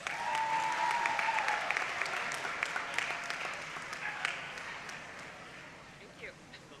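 A crowd at a school dual-enrollment recognition ceremony for P-TECH scholars at Clarksburg High School applauds steadily, a dense wash of clapping that slowly fades, with a faint voice early on.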